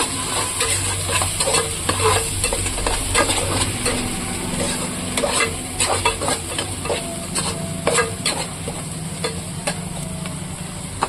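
Steady stirring and scraping in a frying pan as ground coriander, cumin and red chilli powder are mixed into a sizzling curry base, with regular spatula strokes over a continuous low fry and no talking.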